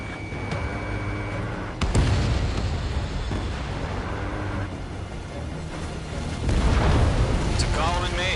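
A missile launching and exploding in a flight combat game, with a sharp burst, rumbling blasts and heavy booms over engine noise, and voices talking throughout.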